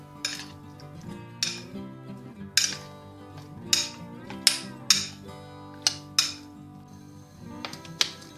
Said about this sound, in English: Now we're adding the mixture to the fish and we mix them very well.